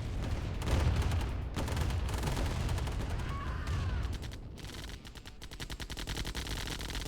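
Command & Conquer minigunner fire rattles in rapid automatic bursts, dense overlapping volleys of small-arms chatter from a crowd of infantry, loud and continuous with brief gaps between strings of shots.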